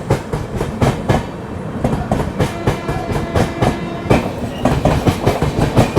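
The Karnataka Express, running from New Delhi to KSR Bengaluru, passes close by with loud, rapid rhythmic clickety-clack of wheels over rail joints, with no voices.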